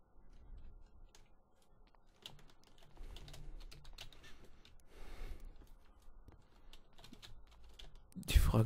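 Quiet computer keyboard typing, soft irregular clicks in scattered bursts, with faint talk in the background and a louder bump at the very end.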